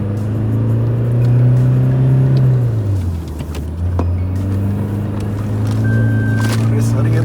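A tuned Toyota Fortuner engine revs up, drops in pitch as it shifts gear, then climbs again in a steady, close drone from inside the car.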